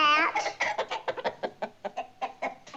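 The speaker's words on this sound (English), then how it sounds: "that's my magic harp and my hen who lays the golden eggs" A hen that lays golden eggs clucking in a storybook giant's home, a rapid run of short clucks after an opening squawk, close and clear.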